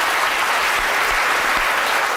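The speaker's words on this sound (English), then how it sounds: "It's a big round of applause" Dense, steady applause from a large audience fills the whole stretch, a continuous loud wash of many hands clapping with no pauses.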